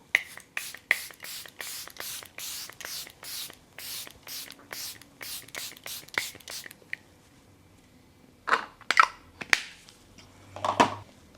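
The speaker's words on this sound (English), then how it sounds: "I'm going to use my Charlotte Tilbury Airbrush setting spray" Charlotte Tilbury Airbrush setting spray hisses out in a quick run of short bursts, roughly a dozen rhythmic pumps close to the mic, followed by a pause and a few softer, scattered puffs and rustles.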